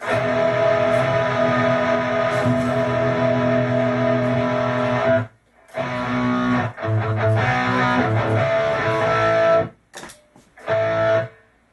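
An electric guitar plays sustained, bright chords with a washy reverb tail, pausing briefly a few times before ringing out again.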